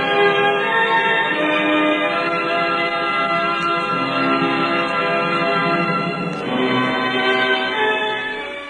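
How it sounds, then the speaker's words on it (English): Wedding bells toll from a church tower in an old-time radio comedy, a steady, ringing peal sustained without a break and fairly loud, with no voices over it. "For whom do the bells toll? Are they wedding bells for Gildersleeve?"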